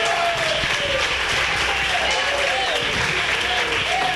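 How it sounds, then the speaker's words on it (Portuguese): A worship audience applauds loudly and continuously, with voices and a sustained tone running under the dense clapping throughout. "Pode aplaudir Jesus, porque Ele merece"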